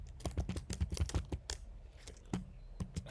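Rapid, uneven keystrokes on a computer keyboard as code is typed for an HTML and CSS exercise, close and clear in short bursts with a brief pause midway.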